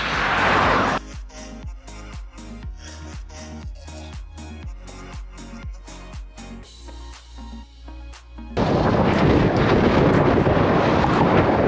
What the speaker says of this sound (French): Tu l'entends sûrement, on a eu beaucoup de vent.